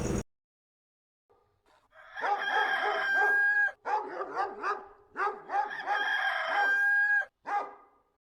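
Rooster crowing in a Filipino radio drama, two long, loud cock-a-doodle-doo calls close up with repeated rising and falling notes, and a dog barking alongside.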